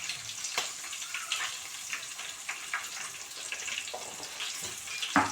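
Green chillies fry lightly in a pan with salt and turmeric. The soft sizzle is quiet and steady, broken by faint clicks and spatters, and a louder sharp pop comes near the end.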